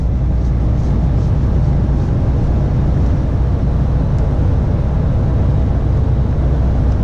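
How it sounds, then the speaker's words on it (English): Steady low rumble of a lorry cab cruising on a motorway at night, continuous broadband road and engine drone with no talk. "So this is driving at night in a lorry."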